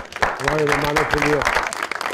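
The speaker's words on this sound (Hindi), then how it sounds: "बहुत सारी तालियां" A crowd claps and applauds while a voice calls out over the clapping.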